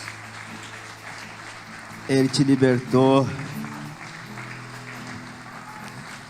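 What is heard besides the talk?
church congregation applauding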